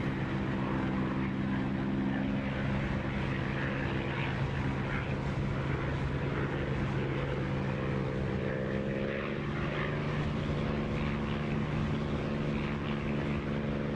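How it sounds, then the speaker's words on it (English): A propeller aircraft engine drones steadily in the DCS flight simulator game, with a constant harmonic hum over a broad rushing wind noise, holding steady with a slight pitch shift partway through. "I hear the engine better too, but the wind noise sounds good too"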